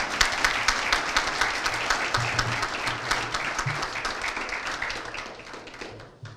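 Warm, sustained applause from a hall of fame ceremony audience honoring Rome Catholic High boys basketball teams, dense clapping with some distinct near claps, slowly fading out toward the end.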